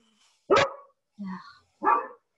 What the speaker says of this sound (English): a very barky dog